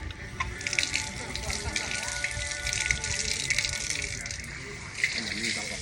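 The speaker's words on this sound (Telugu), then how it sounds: "హ్యాండ్స్ అవి వాష్ చేసుకోవాలి ఇప్పుడు" Water gushes from a tap at a temple as hands are washed beneath it, a steady splashing flow that is moderately near, with faint voices in the background.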